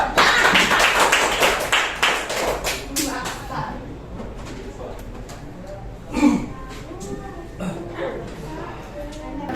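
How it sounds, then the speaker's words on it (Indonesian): Applause in a classroom for a student group after its presentation: several seconds of brisk, fairly loud clapping that thins out into scattered claps, with voices talking and chattering underneath as it fades. "Oke, tepuk tangan untuk kelompok 2."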